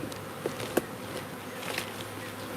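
A live honeybee swarm at a farmstead hums as a faint, steady buzz, with a few individual bees flying close past.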